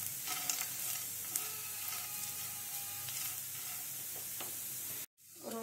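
Roasted chana dal with grated dry coconut is dry-roasted and stirred in a pan, giving a continuous soft rustling hiss with light scraping taps, ending abruptly in a brief silence.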